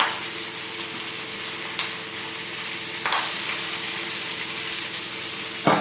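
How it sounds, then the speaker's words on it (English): Vegetables for a frittata sizzle and crackle steadily in a hot frying pan, a close, continuous hiss with a few brief louder spits and no talk. "So we're going to pop all these veggies into the pan together."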